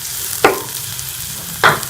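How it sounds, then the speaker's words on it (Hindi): Green chillies dropped into softened onions frying in a pan, a low steady sizzle broken by two sharp stirring scrapes, close up and without talk. "प्याज सॉफ्ट हो गए हैं। अब हम इसमें ये हरी मिर्चें डालेंगे"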